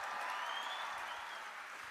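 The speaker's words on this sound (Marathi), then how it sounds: "त्याच्यासाठी एवढ्या टाळ्या कधी नसतील वाजल्या." An audience at a college event in Maharashtra claps steadily in dense, continuous applause that fades slightly over two seconds, with no voices over it.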